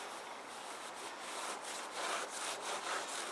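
Rhythmic rubbing and scrubbing strokes against a Harley-Davidson Fat Boy 114 motorcycle's brake disc, close and fairly quiet, repeating steadily for a few seconds.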